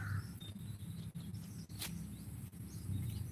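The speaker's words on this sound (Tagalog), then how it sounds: "Maririnig mo mga ibon." Faint bird chirps come and go over a low outdoor background rumble, with a brief sharp sound midway.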